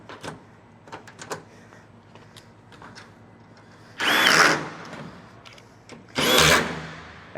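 A power tool whirs in two short loud bursts while clamps go onto S-5! solar panel mounts, with light tapping and handling noises between.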